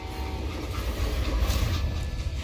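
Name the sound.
train moving in Call of Juarez Gunslinger video game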